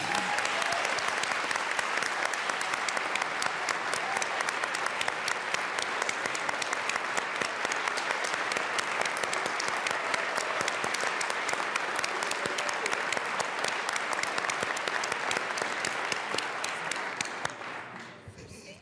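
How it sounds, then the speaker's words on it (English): Sustained applause from a roomful of people in a state legislative chamber, the Colorado House, after a musical medley, steady and dense for about seventeen seconds before thinning out at the end. "may we ask permission to applaud for the beautiful medley? Of course. Let us clap."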